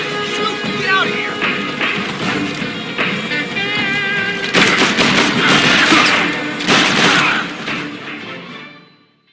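Gunfire from the Metal Gear Solid 3 Snake Eater Remake video game rattles in dense, loud continuous bursts mixed with booms and game sound, building then fading out at the end.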